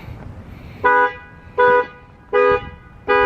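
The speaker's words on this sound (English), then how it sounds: "I just set my brother's truck alarm off." Pickup truck alarm honking in a steady repeating pattern, four loud evenly spaced horn blasts close by, with no talk.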